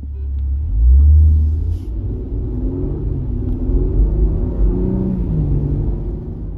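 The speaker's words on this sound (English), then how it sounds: "Let's listen to the acceleration again." A 2024 Maserati Levante GT accelerating: deep engine rumble and road noise heard from inside the car, swelling briefly early on, then a steady rising drone with gear changes, no talking.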